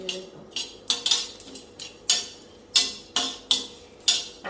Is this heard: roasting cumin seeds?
yes